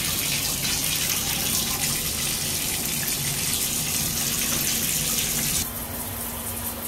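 Water gushes loudly from a bathtub faucet into a fiberglass tub during a home inspection, a steady rushing stream that drops slightly in level near the end, with no talking.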